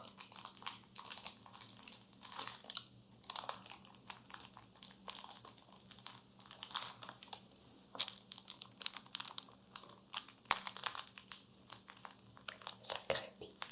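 Silk tissue paper wrapped around a pretty gift box crinkles and rustles close up in bursts of crisp crackling, with soft pauses between handlings.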